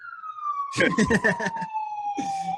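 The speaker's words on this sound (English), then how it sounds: "Sirens going on." A police siren wails steadily in the distance while people talk over it in bursts.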